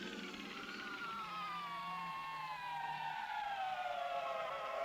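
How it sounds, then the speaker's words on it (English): Air raid sirens from the 1960 film The Time Machine wail in a slow, falling and rising tone, sustained and fairly distant, with no talk over them. "Air raid sirens in 1966?"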